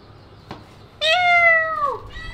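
A female cat gives one clear, drawn-out meow close by in a quiet room, with a faint click just before and a brief trailing chirp after.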